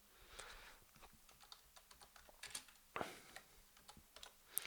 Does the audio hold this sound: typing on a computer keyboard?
yes